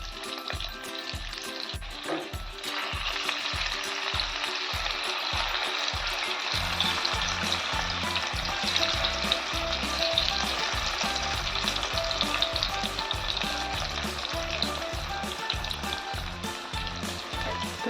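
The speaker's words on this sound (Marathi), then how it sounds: "याप्रमाणे सर्व वड्या तळून घेऊया" Spinach vadi (palak vadi) pieces frying in hot oil give a steady, close bubbling sizzle throughout, with a rhythmic low thumping underneath and no voices.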